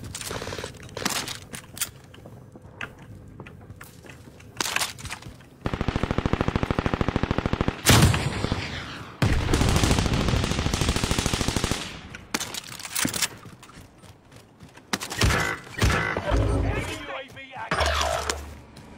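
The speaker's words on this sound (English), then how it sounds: "I'm getting shot at already." Sustained bursts of automatic gunfire and single shots in a first-person shooter game, long loud rattling volleys alternating with quieter gaps, with a player's voice talking at times.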